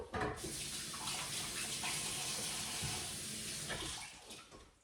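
Running tap water pours steadily into a sink as sticky scone dough is rinsed off hands or utensils, a continuous close splashing rush that holds for the whole stretch with no talking.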